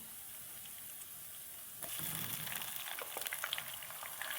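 Green chillies added to hot oil with garlic, starting with a faint low sizzle, then a sudden louder crackling fry with scattered pops that continues to the end.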